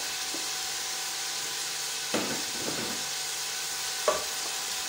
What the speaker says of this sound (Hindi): ये मैं इसमें टमाटर डाल दूंगी, इसको भी हल्का सा भूनेंगे हम